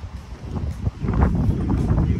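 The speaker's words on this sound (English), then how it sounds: "So windy and dusty out here." Strong outdoor wind on a dusty day buffets the microphone as a steady, rough roar that builds and holds, with no speech over it.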